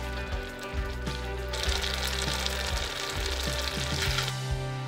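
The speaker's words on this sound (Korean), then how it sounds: "라면 사리 넣고 골고루 면발을 펴주고 3분 끓인 후 마지막에 고소함 추가하는 인스턴트 치즈 반개에 녹인 후 불을 꺼졌다." Ramen noodles with instant cheese simmer in a budae-jjigae stew, giving a steady close bubbling and sizzling with soft stirring and liquid sounds and no talking.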